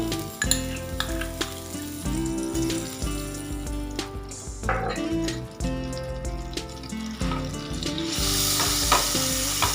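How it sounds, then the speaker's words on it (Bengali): Butter tadka for dal makhani sizzles loudly in a hot pan, a dense frying crackle broken by clinks and stirring knocks, with a brief water-running rush near the end; nobody speaks. "এবার আমি তড়কা দেবো ডালে, বাটারটা দিয়ে দিলাম।"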